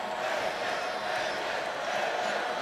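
A college basketball crowd in an arena chants in a steady, dense roar, the massed voices blending into one continuous wash without distinct breaks.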